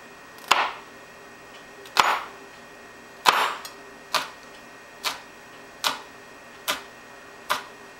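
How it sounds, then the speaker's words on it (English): Handheld food chopper being pressed down on food, about eight sharp clacking strikes at a steady pace of roughly one per second, close and distinct against a quiet background. "I'm going to use my chopper."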